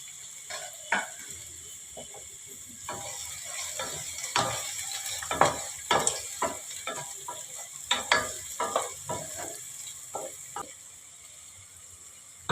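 Chilli, garlic, tomato and ginger stir-fry in a pan for chicken fried rice: a steady sizzle broken by irregular scraping and clattering strokes of a spatula, close and fairly quiet, with no talking.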